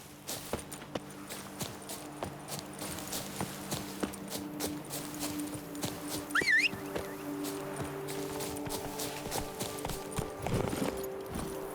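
Horse hooves from The Witcher 3 thud in a steady quick clip-clop across the whole stretch, moderately loud over low game ambience with a brief higher squeal in the middle.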